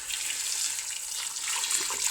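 Water running from a tap into a cooking pot for beans, a steady hissing splash that holds constant for the whole stretch, close by and with no talking.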